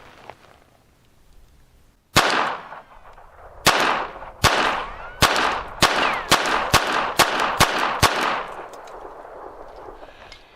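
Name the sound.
Phoenix Arms HP22 pistol firing at the range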